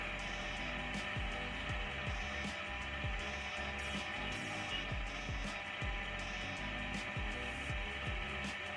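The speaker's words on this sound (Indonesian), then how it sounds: "Kalian mixer dan kecepatan tinggi, dia bakal begini jadinya." Electric mixer running at high speed through cake batter for a marbled sponge, a steady whirring drone with a regular ticking rattle of beaters against the bowl, moderately quiet and continuous with no talk.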